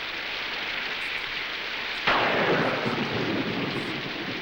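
Steady heavy rain hisses throughout a stormy outdoor scene, with a sudden close thunder crack about halfway that leaves a louder rumbling downpour behind it.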